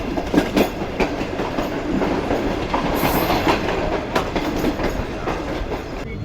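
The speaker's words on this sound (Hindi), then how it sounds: "हमारी ट्रेन इस वक्त अप्रोच बना रही है मीरपुर खास जंक्शन रेलवे स्टेशन पर" Passenger train running on the rails on the desert line from Karachi, approaching Mirpur Khas Junction: a loud, steady rumble of wheels with a close, rhythmic clickety-clack of rail joints and no talking.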